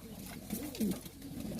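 Pigeons in a loft being bathed cooing softly nearby, a couple of low rolling coos over a steady background hum.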